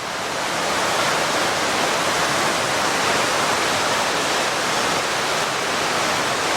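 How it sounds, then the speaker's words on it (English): Waterfalls in the gorge at Watkins Glen State Park pour in a steady, loud, broadband roar of rushing water, close and continuous without a break. "just waterfall after waterfall"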